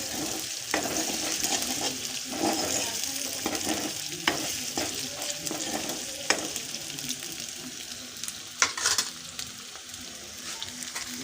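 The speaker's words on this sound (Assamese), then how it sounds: "পিঁয়াজটো ভাজি লোৱাৰ পিছত ইয়াত মাংসখিনি দি দিম বাৰু। এতিয়া অলপ ভাজি লৈছোঁ।" Onions and meat that was partly fried a day earlier frying together in a pan, with a steady loud sizzle and repeated scraping stirs of a spatula against the pan, plus a few sharp clinks.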